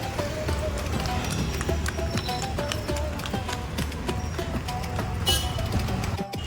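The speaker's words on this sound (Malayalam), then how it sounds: "അതിലൂടെ ഒരു കുതിര വണ്ടി വരുന്നുണ്ടാ" A horse-drawn cart crosses a bridge near a park in Bangalore, its hooves clip-clopping in a steady, regular rhythm at moderate distance over low street bustle.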